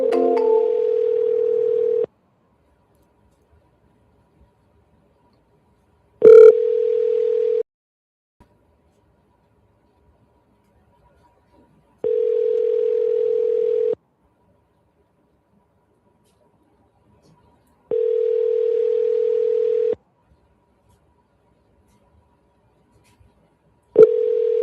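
An outgoing phone call rings while redialing a contact, with a steady ringback tone that sounds in about five long, evenly spaced bursts, each roughly two seconds, separated by silence.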